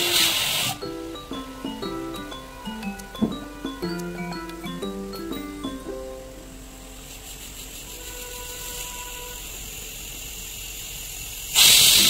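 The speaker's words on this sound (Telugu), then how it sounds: "ఇప్పుడు కుక్కర్ 6 విజిల్స్ వరకు వచ్చే వరకు ఉడకపెట్టుకోవాలి." A pressure cooker of dal with fenugreek leaves and tamarind gives a soft, continuous steam hiss after a stretch of melodic music, ending in a sudden loud burst of steam near the close.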